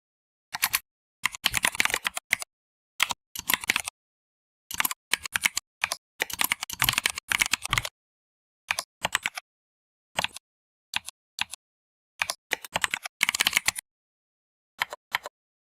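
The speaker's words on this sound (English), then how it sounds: "Is your keyboard from Ducky?" Fingers type on a computer keyboard in uneven bursts of rapid clacking keystrokes separated by short pauses, close and clear with no talking.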